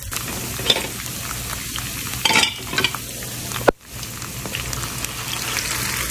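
Onions fry in a pan for picadillo with a soft, steady sizzle and a few stirring scrapes, plus one sharp clack partway through.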